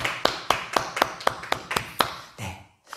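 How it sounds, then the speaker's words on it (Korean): Church congregation applauding during a Korean Sunday worship service, a series of about nine sharp, evenly spaced claps like unison rhythmic clapping, fading out near the end. "영광의 박수 올려드리겠습니다"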